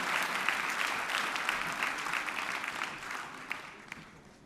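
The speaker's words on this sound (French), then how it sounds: "Allez, on applaudit nos amis musiciennes, nos musiciens qui vont rejoindre leur pupitre." An audience at a concert applauds the musicians, a broad, sustained burst of clapping from many people that slowly thins and fades toward the end.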